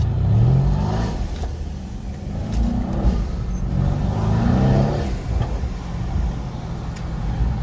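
A nearby Mercedes-AMG C63 S engine, tuned with a JB4, revs hard and accelerates with a spinning rear tire, its roar rising and falling in repeated surges with no voices.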